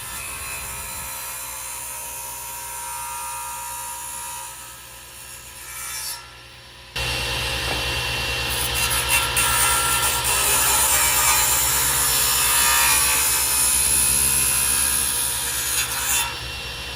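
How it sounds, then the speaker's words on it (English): A table saw cuts wood for a porch swing using a jig, with a steady motor hum that gives way to a louder, rougher, sustained cutting roar lasting several seconds. "I made a jig for the table saw to make that horizontal cut."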